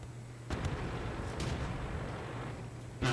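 Heavy artillery fire booms in a World of Tanks battle, one sharp blast opening into a long rumbling roar with a second thud midway and another strike right at the end.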